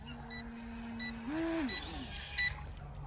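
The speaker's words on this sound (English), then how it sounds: "you've got the telemetry beep to indicate bring it in as soon as possible" Telemetry warning beeps from a UDIRC UDI908 brushless RC speedboat sound as faint, short, high repeated chirps, with a low motor-like tone rising and falling partway through.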